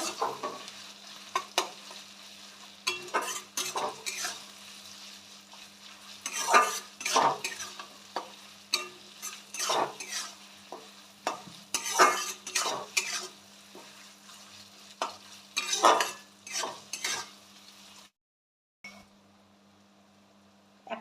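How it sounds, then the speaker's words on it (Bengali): Ground cumin spice masala stir-fried in a pan for chicken kassa, with repeated spoon scrapes and stirring strokes over a faint steady sizzle, close and fairly quiet, trailing off into near silence at the end. "মশলাটা ভালো করে কষিয়ে নেব"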